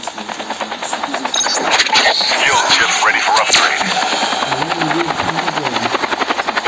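Helicopter in the Call of Duty battle royale game, with a steady rotor chop and engine whine throughout, loud and close, as players talk over it.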